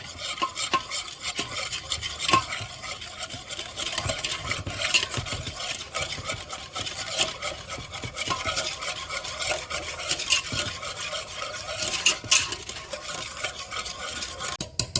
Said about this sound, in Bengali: এবার সম্পূর্ণ জিনিসকে আমি একসাথে একটু মিক্সিং করে নেবো